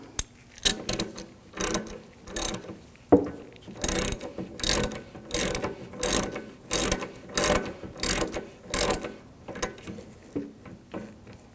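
A ratchet wrench snugging down a radiator fitting on a 2007–2013 BMW 328i with a 3.0L inline-six, rapid bursts of clicking pawl strokes repeating in short rhythmic spells, close and crisp, with brief pauses between pulls.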